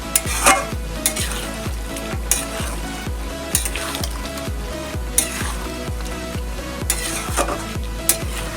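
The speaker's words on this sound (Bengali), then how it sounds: "লো মিডিয়ামে আঁচে করে আমি এটা কষিয়ে নেব" Chicken curry sizzles as it is stir-fried kosha-style in its own juices, with rhythmic spatula scrapes against the pan roughly every half second and occasional metallic clinks, close up and without speech.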